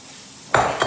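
Butter and leftover masala on a hot tawa at a Surat street stall: quiet at first, then a sudden loud, close burst of sizzling, with a second rise just before the end.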